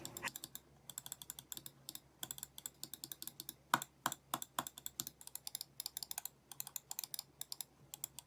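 A Logitech MX Anywhere 3 for Mac mouse gives loud, crisp clicks, sounding close and alone in irregular runs of quick taps with short pauses between them.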